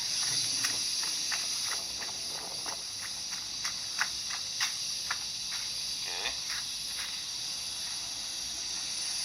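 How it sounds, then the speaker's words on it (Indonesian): A constant high, shrill cicada drone fills the background, steady throughout, with faint scattered ticks and footfalls beneath it. "di latarnya ada suara tonggeret ya, suara serangga"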